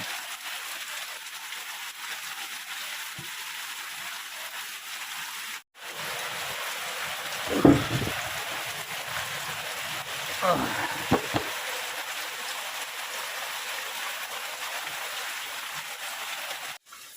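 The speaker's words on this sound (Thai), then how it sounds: "ฝนก็ยังไม่หยุดตกแต่ก็ยังทำทำอยู่ตลอดเวลาครับ" Steady rain pours through the night around an abandoned temple, a constant close hiss like sizzling on surfaces, with a brief break and a few louder knocks and splashes partway through.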